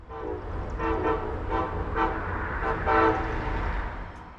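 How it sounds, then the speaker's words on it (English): Amtrak Regional Train 176 arrives eastbound behind two ACS-64 electric locomotives at South Norwalk station. A steady low rumble runs throughout, with a series of short pulsed horn-like tones rising over it. "A double-headed set of sequentially numbered ACS 64s leads Amtrak Regional Train 176 eastbound on Track 4."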